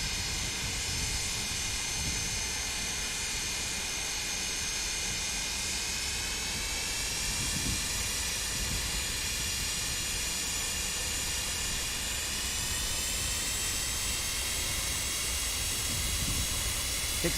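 Jet engines of an MD-80 in Microsoft Flight Simulator spool up in a steady, loud, broadband roar with a high whine above it, continuous throughout with no talking.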